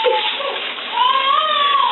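A baby cries nearby with a rising, wavering wail, loud and close, following a few short fussy sounds.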